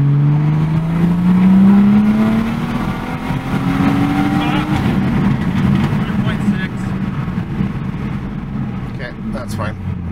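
A turbo-swapped BMW 340i with a B58 engine rolling on from low RPM, its engine note rising steadily in pitch over several seconds, then settling into a broad roar inside the car, with a voice speaking.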